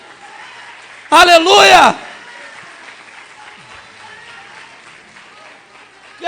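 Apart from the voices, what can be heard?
church congregation applauding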